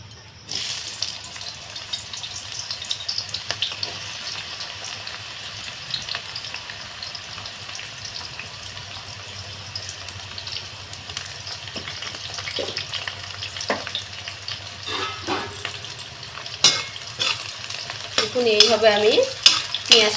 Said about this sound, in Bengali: এবারে আমি বেরাস্তেটাকে ভেজে নেব